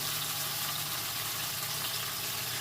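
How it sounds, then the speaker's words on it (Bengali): Sliced okra frying in hot white oil, a steady dense sizzle with a faint low hum beneath, continuous and even from start to finish with no voices. "তেলটা গরম হয়ে গেছে যখন, ঢ্যাঁড়সগুলোকে দিয়ে দিচ্ছি, কেটে রাখা ঢ্যাঁড়সগুলো।"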